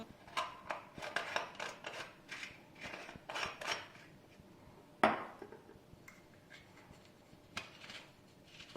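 Sticks being pushed into half-set watermelon rose kulfi moulds, then the moulds being covered: a run of quiet scraping, rubbing and light plastic clicks with one sharper knock midway, close by and without speech.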